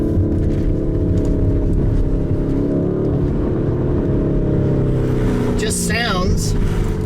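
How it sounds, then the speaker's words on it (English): A 2019 Lamborghini Urus SUV with a 650 horsepower twin turbo V8 runs as a loud, deep, steady engine drone that rises slightly near the end. "This has a twin turbo V8 with 650 horsepower."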